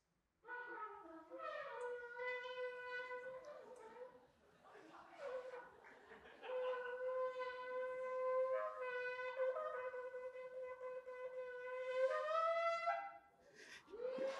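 A ram's horn shofar, called a yobel, blown during a church talk on Jubilee: several long, loud, sustained brassy blasts with brief breaks between them, ending in a rising final note.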